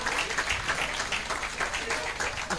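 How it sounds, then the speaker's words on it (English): Applause from an audience at a sixtieth birthday celebration, a fairly loud, steady wash of clapping with a voice speaking over it. "Let's give it to him, a big round of applause, ladies and gentlemen."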